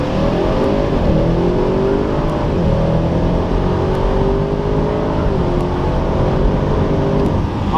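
An Audi RS6 accelerating hard out of a corner, a loud continuous engine roar climbing in pitch through successive gears with brief dips at each shift, heard from inside the car with no talk.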